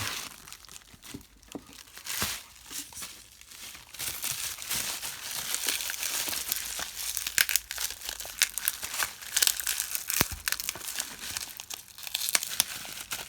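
A box sealed with lots of tape being opened, with packaging handled up close: continuous crinkling and crumpling, tearing tape and scattered sharp crunches, no voices.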